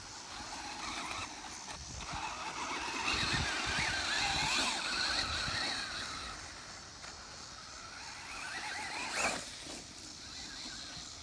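A Traxxas Slash RC car runs on an ATV track, its motor whining and revving under throttle with a steady, fairly close hum that swells and fades over about eleven seconds.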